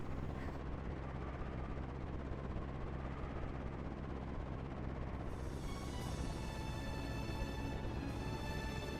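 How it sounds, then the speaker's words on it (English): A propeller plane engine in the Umineko visual novel game, a steady loud droning rumble that holds for the whole stretch, with no talking over it. "Oh, it's the propeller plane,"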